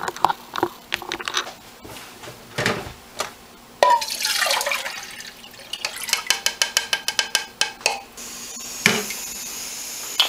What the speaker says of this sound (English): I just poured 16 ounces of water in here